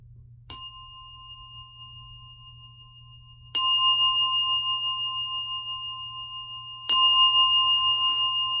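A hand bell rings three times, each a clear, sustained metallic ding with a bright ringing overtone that slowly decays, spaced about three seconds apart over a faint low hum.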